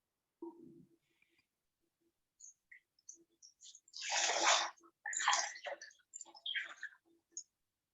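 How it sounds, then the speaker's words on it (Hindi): Water splashes and pours in short bursts as both feet are washed with clean water after a foot soak, with quiet drips and pauses between the louder sloshes. "अब हम अपने दोनों पाँव को साफ़ पानी जो हमने साइड में रखा है, उससे धो सकते हैं।"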